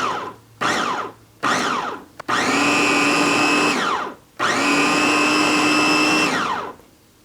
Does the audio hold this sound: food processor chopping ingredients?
yes